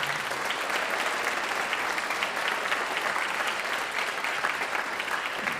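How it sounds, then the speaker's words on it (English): An audience at a band gathering gives sustained applause, a continuous roar of many hands clapping at an even level with no talk over it. "can we have a big round of applause for Chris Miles?"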